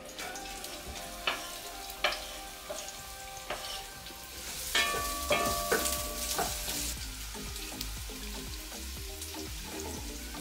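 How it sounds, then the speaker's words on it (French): Olive oil sizzles steadily with onions and garlic sweating in a pan, with occasional clinks and stirring sounds up close. "j'ai mis un peu d'huile d'olive et de l'oignon avec mon ail et je vais laisser suer un petit peu l'oignon"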